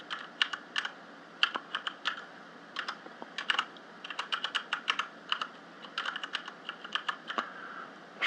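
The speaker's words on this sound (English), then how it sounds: "So we're going to call this something really cool like small, assuming I can type." Typing on a computer keyboard while entering a name into a software table: quick, irregular bursts of crisp plastic key clicks, close and fairly quiet, with short pauses between runs of keystrokes and no voices.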